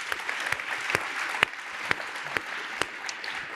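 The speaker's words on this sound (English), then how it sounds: "Let's give her a big round of applause." An audience at a university lecture event applauds for a few seconds, with a soft bed of many hands and loud, distinct claps from someone close by standing out at an irregular beat.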